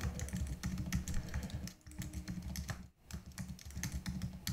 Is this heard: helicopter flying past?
no